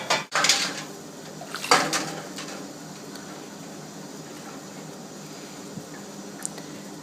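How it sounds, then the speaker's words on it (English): Glass jars are lifted out and set down in a kitchen while pickled beets are being prepared: two sharp clinks near the start, then quiet handling noises and a couple of faint taps. "let's get our jars out."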